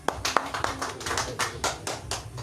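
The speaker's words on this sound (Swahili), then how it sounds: "Tupigie Yesu makofi sana." A church congregation claps hands in a loose, uneven burst of applause, individual slaps audible over a soft background, moderately loud and fairly close.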